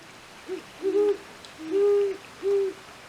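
A voice imitates a great horned owl, giving four soft, low hoots in a slow rhythm, close and clear against a quiet background.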